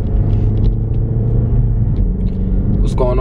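A steady, loud low rumble fills a moving car's interior as it drives, with a short voice near the end.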